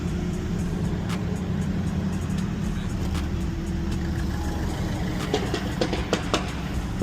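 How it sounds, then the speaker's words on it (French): A car with a loud, rough engine drones steadily at close range, a low rumbling hum with some rattly clicks on top, and no voices over it. "c'est une bagnole qui fait ce bruit là"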